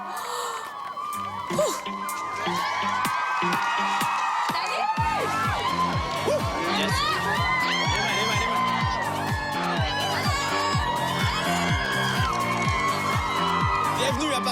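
A large crowd of fans at a Paris-area pop star event cheers, whoops and screams continuously and loudly, with an excited voice shouting over the noise.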